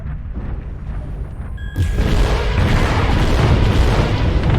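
Long-range weapons fire lands in a MechWarrior Online battle involving a Stalker STK-3F mech, opening with a quieter stretch before a heavy boom hits at the midpoint and a loud, sustained rumbling blast carries through to the end.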